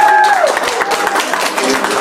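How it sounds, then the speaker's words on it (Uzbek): Audience applause at a celebration in Romitan, Bukhara, a close, steady wash of many hands clapping from a crowd, with a brief tonal sound at the start. "Qarsaklar bemalol chalib qo'yishlaringiz mumkin"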